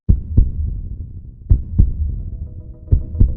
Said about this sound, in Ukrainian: Так лунає звук серця.